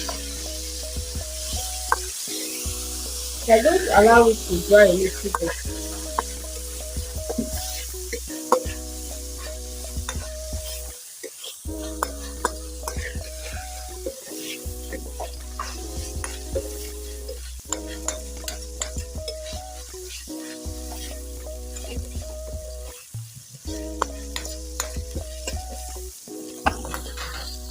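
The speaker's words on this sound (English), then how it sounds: "Now I'm going to add the meat to the onions and oil." Meat sizzles in a pan with onions and oil, a steady close frying hiss broken by scraping stirs and pan clatter, with a voice speaking briefly over it.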